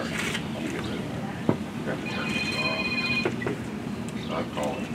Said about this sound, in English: Everybody does it when their phone rings.